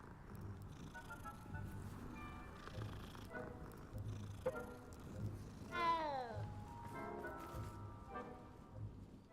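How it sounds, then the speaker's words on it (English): A cat being petted in a video game purrs softly and meows, set over a steady patter of rain and low ambient rumble, faint and moderately close. "Pet the cat."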